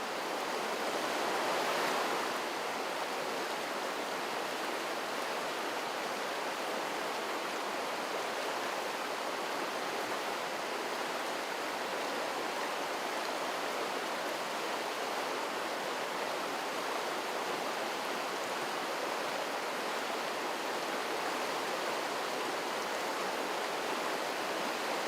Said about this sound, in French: La rivière passe juste à l'ombre.